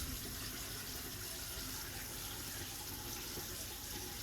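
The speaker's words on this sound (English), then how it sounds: "I'm gonna turn the water on." Water running steadily from a newly installed Moen bathroom faucet into the sink, a constant close hiss and splash with no pauses.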